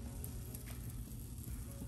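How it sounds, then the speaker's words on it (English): Pandan honeycomb cake batter sizzles in a heated mold, a steady close crackling hiss with faint pops throughout. "Guys, can you hear that sizzling? It is such a wonderful sound."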